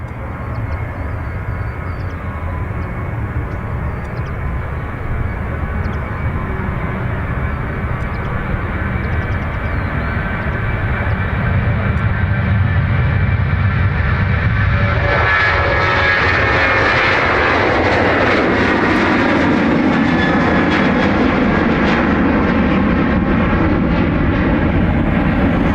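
A KLM airliner's engines roar on the runway at Dublin Airport, a loud, continuous drone that swells and rises in pitch past the midpoint as the jet powers up.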